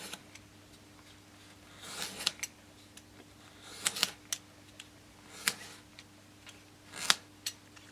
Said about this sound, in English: I use my trusty knife to cut this. Again, no force, just very gently.